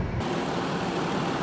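A 2005 Dodge Caravan SE wheelchair van with a 3.3 V6 and 96k miles idles with the hood up, a steady, even engine drone heard close and unbroken.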